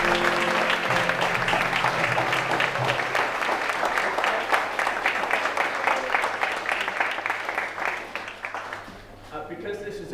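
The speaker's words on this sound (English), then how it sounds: "please join with me in applause and congratulating and welcoming our" Sustained applause from an audience welcoming new citizens at a small local Australian citizenship ceremony, dense steady clapping filling the room for several seconds before thinning toward the end, with a voice just under it.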